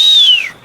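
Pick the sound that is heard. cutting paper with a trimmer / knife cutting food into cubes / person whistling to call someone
person whistling to call someone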